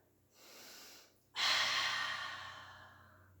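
A single forceful exhale during a mat pilates exercise, following a softer breath in, loud and close with a long airy tail that fades over a couple of seconds.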